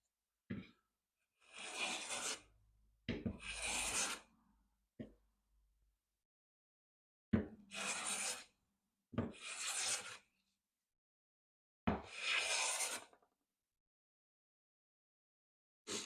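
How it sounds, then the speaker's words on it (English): A Veritas smoothing hand plane, skewed over tear-out, takes thin wood shavings in five or six distinct rasping strokes, each about a second long, separated by silence. "I'm skewing the plane over this tear out."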